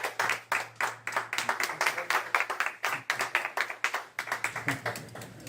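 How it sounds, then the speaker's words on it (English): A small audience at a community bookstore event claps in a round of applause, with many separate hand claps forming a loose, uneven rhythm for several seconds at moderate level. "Give them a nice round of applause."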